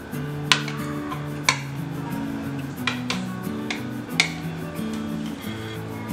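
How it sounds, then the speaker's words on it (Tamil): A knife cuts boiled eggs in half for a Tamil masala egg bonda, giving four sharp, close taps against the board, spaced about a second apart, over a soft steady tonal background. "இப்போ எல்லா முட்டையும் பாதியாக நம்ம கட் பண்ணியாச்சு"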